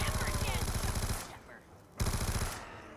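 RPD light machine gun firing in Black Ops 2 Zombies on TranZit, two loud, rapid automatic bursts separated by a short pause, close and dominant.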